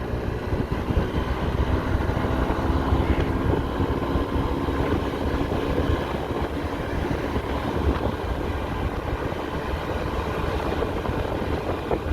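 A Honda Dio AF62 four-stroke scooter engine pulls steadily as the scooter is ridden, with a constant loud drone and rushing road and wind noise throughout, and no voices.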